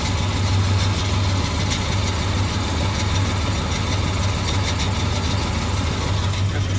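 A BMW engine idling, still slightly misfiring, a loud, steady low-frequency drone with an uneven, faintly stumbling rhythm and no voices.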